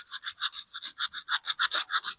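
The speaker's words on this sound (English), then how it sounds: "This is the last one to sand." Rhythmic back-and-forth sanding strokes on a motorcycle part during a from-scratch build, about a dozen steady raspy passes, close and fairly loud, with no talking.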